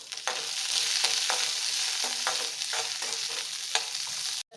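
Spices including fennel seeds fry in a pan for chicken biryani, a continuous close sizzle punctuated by repeated scrapes of stirring before it cuts off abruptly.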